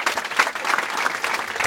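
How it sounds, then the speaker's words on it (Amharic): A crowd at a church gathering claps for a new believer, a short burst of even, close applause with no voices. "አጨብጭቡለት"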